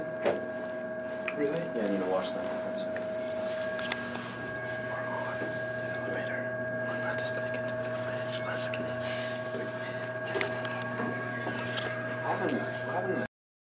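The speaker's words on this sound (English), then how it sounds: "welcome to elevator music" Soft elevator music plays inside a building, with steady sustained tones and a faint melody under low background noise and occasional quiet rustling.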